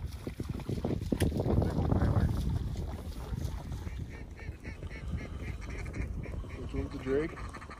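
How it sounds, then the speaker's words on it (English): Ducks, including teal, lift off water in Texas with a rush of splashing and wingbeats, followed by faint quacking as they fly; someone talks over the commotion. "All them ducks are coming. Ducks are up."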